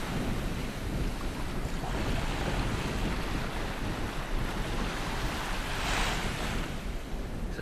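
Steady wash of waves breaking and churning on a lake at Milang, South Australia, with heavy wind buffeting the microphone throughout, continuous and loud.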